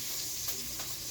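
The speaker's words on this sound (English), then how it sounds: "And there is some sizzle." Omelet eggs sizzling in a hot non-stick pan, a steady close hiss and crackle with slight stirring-like scrapes, heard alone.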